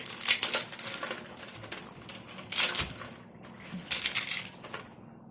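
Fried appalam, a crisp papad, is crushed by hand into pieces for a pea kurma, giving several short bursts of dry crackling separated by quieter pauses, close up.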